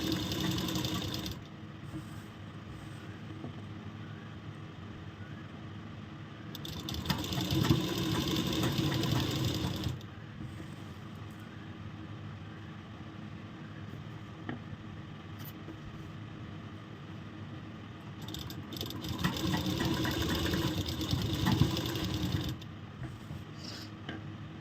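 Sewing machine stitching along the edge of fabric while making a collar for a ladies' shirt, running in two long steady bursts of mechanical whirring and rapid needle clatter separated by a quieter gap with only faint motor hum.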